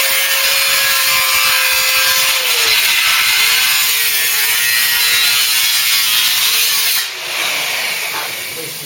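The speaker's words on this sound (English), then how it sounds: "Got to try and keep two hands on the grinding wheel." A grinding wheel grinding metal on a Cortina GXL during restoration: a loud, steady, harsh abrasive whine that runs almost continuously and briefly dips near the end, with no speech.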